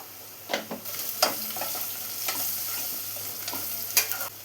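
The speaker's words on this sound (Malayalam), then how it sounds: "ഇപ്പോൾ സവാള എല്ലാം ഒന്ന് ട്രാൻസ്പെറൻ്റായി വന്നിട്ടുണ്ട്. ഈ സമയം ഇതിലോട്ട് 1/4 ടീസ്പൂൺ മഞ്ഞൾപ്പൊടി ചേർത്ത് കൊടുക്കാം." Onions and turmeric fry in a pan with a steady soft sizzle. A spoon stirs them in repeated scraping strokes close by, and no one speaks.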